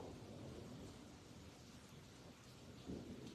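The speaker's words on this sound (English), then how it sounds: "It is thundering and raining." Thunder rumbles low and continuously outside while rain falls in a steady hiss, heard faint and distant as an unbroken wash of sound.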